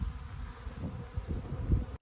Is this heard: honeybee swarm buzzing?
yes